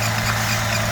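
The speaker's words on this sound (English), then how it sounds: "It does sound really nice, this motor." A Holden VR Commodore's engine idles steadily with a low, even hum and faint vibration, close and continuous for a brief moment with no talk.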